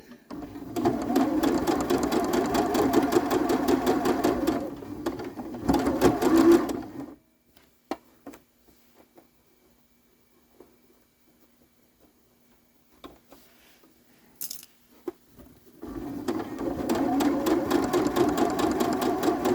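A sewing machine runs fast and steady, stitching a seam on a small quilted bag, pauses for several seconds of near silence with faint clicks, then starts up again at full speed.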